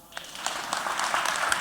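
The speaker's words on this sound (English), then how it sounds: "let us have a loud round of applause, because certainly that is a speech that is going to go down in the books of history" An audience claps after a speech by Uganda's High Commissioner to the UK, the applause building from a faint start into a steady, moderately loud patter of many hands that continues to the end.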